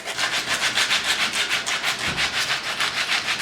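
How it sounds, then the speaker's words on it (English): Coarse 60-grit sandpaper rasps across a shoe sole in quick, even back-and-forth strokes, roughly four per second, close and steady with no talk. "So I like to clean it up with just some coarse sandpaper. This is 60 grit"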